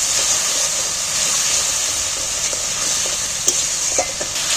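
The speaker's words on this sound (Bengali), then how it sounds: "এইবারে মশলাটাকে ভালো করে আবারও কষিয়ে নেব" Fish masala spice paste, salted, fries in a pan with a steady bright sizzle, loud and close, and a few soft clicks of stirring near the end.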